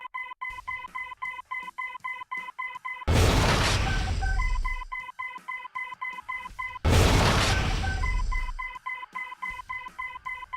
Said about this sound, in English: Try taking out some of those AA turrets. Fire all missiles to complete the exercise.